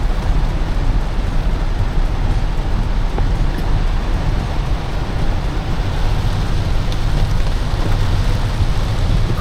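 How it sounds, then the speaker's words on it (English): Heavy rain pours down in Grenada in a dense, continuous roar, loud and close, with no breaks or voices. "Serious rain."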